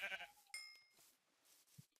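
A Minecraft sheep bleats once, short and fairly clear, amid faint game ambience and a few soft clicks, with no talk.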